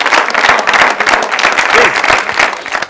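Studio audience gives a loud, dense round of clapping for guest Mohib Mirza on a talk show, sustained and close for the whole stretch with no voices over it.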